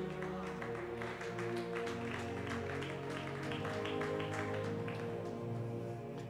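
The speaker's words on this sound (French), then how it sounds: "Why are we clapping?" A church congregation claps steadily through an inaugural service, the dense clapping blending with loud ongoing worship music and no clear speech on top.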